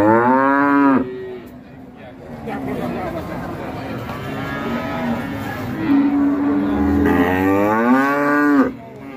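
Ongole (PO) cattle at the Jatiro cattle market moo loudly and close by. One long low call comes first and another comes near the end, with crowd noise and chatter in between.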